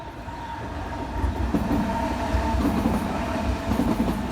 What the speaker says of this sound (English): I think there's a train coming, so we can film that. It'll be noisy.